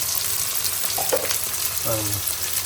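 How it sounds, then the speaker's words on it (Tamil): Chopped onions sauté in a pan for a home-style Tamil curry, giving a steady close sizzle throughout with a few brief stirring scrapes and no talk. "வெங்காயத்தை போட்டு உதக்குறேன் பாருங்க"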